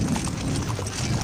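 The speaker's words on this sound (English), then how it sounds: "Just then, the horse began to go faster." Horse hooves clip-clopping at a quickening pace, probably on a snowy forest path, a steady close rhythmic patter of hoofbeats filling the short stretch without any talk.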